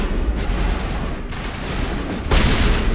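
Heavy gunfire in a Mass Effect firefight at an ExoGeni facility, with continuous loud bursts of automatic weapon fire and a louder volley toward the end.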